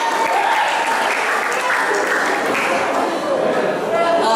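Audience claps at a school Bible-week performance in a hall, a steady wash of applause mixed with crowd murmur and voices speaking over it throughout.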